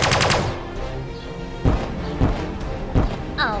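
Laser weapons firing in the space strategy game Sunrider, heard as a few sharp blasts and thumps with ringing tails, closing with a short electronic warble.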